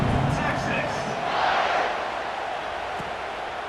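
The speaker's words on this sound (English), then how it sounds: "this crowd is buzzing after that last score" A stadium crowd in the football video game EA Sports College Football 26 roars and buzzes after a score, a broad swelling cheer beneath a commentator's voice.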